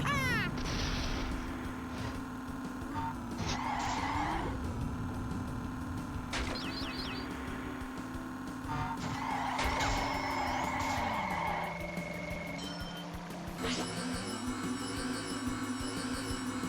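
Go-karts race in the GameCube game Crash Nitro Kart played with a steering wheel: a continuous buzzing kart engine whose pitch rises and drops with acceleration, mixed with chirps, tire squeals and quick game sound effects throughout.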